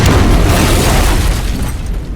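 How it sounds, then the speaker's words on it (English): A plasma missile explosion in a Doctor Who audio drama: one loud, sustained boom with a deep rumbling body that slowly fades over a couple of seconds. "Imminent attack. Plasma missile approaching."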